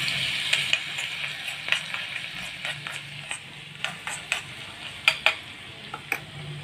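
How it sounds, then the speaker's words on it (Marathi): Green chili paste fries in hot oil for an upvas idli chutney tempering, a steady close sizzle broken by frequent sharp scraping taps of a spoon stirring against the pan. "मी इथे तेल गरम करून घेतलेलं आहे, त्यामध्ये हिरवी मिरचीची पेस्ट टाकायची"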